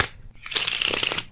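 A deck of playing cards being shuffled up close, a soft riffle leading into a dense, rapid flutter of cards snapping together, with no talking.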